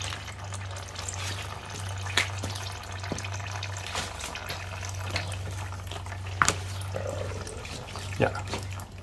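Oil trickles and drips from a 1972 Yamaha RT1-360 enduro motorcycle as it drains, a faint continuous liquid patter with a few sharper drips over a steady low hum, close by.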